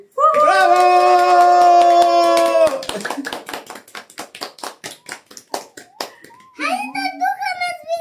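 Clapping at a child's birthday party, a long burst of many hands rattling quickly and close after a held sung note, followed by children's voices.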